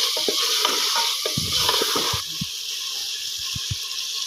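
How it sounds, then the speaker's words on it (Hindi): Roughly three medium onions frying with beef in a pot sizzle loudly and steadily, broken by clanks and scrapes of a spoon stirring and knocking against the pot, close up with no speech. "अब हमें इन चीज़ों को भूनना है आपस में"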